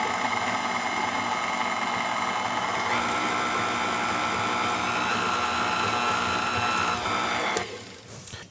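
An electric mixer blends flour into lime cake batter, a steady high motor whine running for several seconds before cutting off near the end, close and alone.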